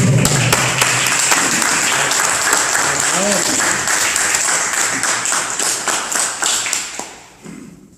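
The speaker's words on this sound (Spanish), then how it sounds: "Aquí un fuerte aplauso." A conference audience applauds a speaker at a free talk in San Borja, a dense, loud burst of many hands clapping that holds steady and then thins out and fades over the last second.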